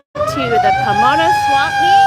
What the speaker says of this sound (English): Sorry for the loud siren.